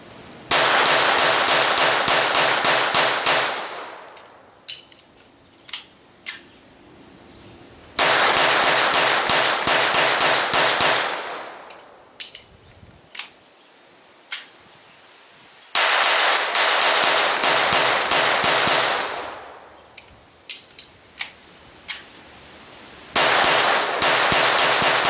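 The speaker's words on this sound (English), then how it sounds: "The M&P22 was tested by firing 50 round strings with magazine changes and shorter strings with partially full magazines." Smith & Wesson M&P22 pistol firing long strings of rounds, rapid sharp cracks packed into dense multi-second volleys, with pauses and scattered single shots between strings, loud and close.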